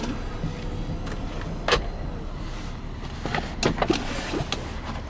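A Chrysler Town & Country Touring-L minivan's power sliding door whirs and clunks nearby, with a few mechanical clicks and thuds over a low idling hum.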